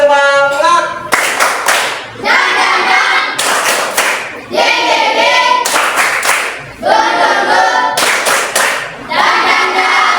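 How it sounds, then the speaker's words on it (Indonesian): Standing schoolchildren in a classroom perform a rhythmic spirit clap, loud patterned bursts of clapping in repeated phrases with chanting voices between the claps. "Tepuk semangat."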